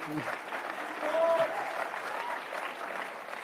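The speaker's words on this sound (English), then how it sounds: "I think that we should clap for Elon Musk." Audience applause at a CPAC backstage live show, a steady wash of clapping from the crowd that swells slightly midway and continues throughout.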